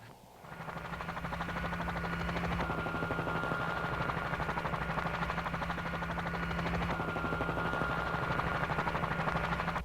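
A helicopter drones steadily overhead, its rotor chopping in a fast even pulse over a constant engine whine, loud and unbroken for the whole stretch with no voices.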